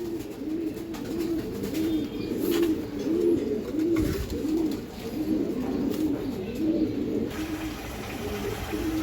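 Giribaj pigeons coo in a soft, repeating rhythm of low rolling calls at moderate distance, over a steady background hiss.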